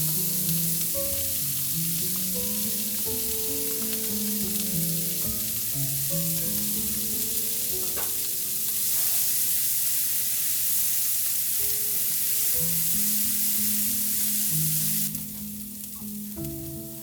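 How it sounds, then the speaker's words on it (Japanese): Chopped vegetables stir-frying in melted butter for pilaf, a steady close sizzle under background music, with a louder burst of frying near the end. "刻んだ野菜を炒める。"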